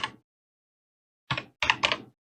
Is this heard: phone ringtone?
no